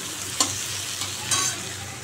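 Fish pieces sizzle in hot oil in a pan, a steady loud frying hiss punctuated by two or three quick stirring scrapes.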